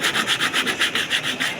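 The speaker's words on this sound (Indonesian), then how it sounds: "Kita amplas." Rhythmic back-and-forth scraping of sandpaper on a motorcycle engine part, about a dozen even strokes in quick succession, close and fairly loud.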